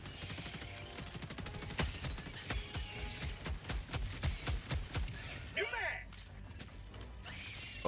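Rapid bursts of machine gun fire from a player's weapon in Helldivers 2, loud and close, with dense clattering shots through the first half, then trailing into scattered mechanical clicks and a brief whirring sound.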